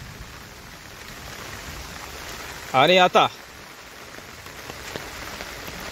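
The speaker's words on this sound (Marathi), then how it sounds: "पाऊस पडल्यामुळे" Steady rain falls in a district of the Konkan coast, a continuous hissing patter throughout, briefly interrupted by a short spoken phrase near the middle.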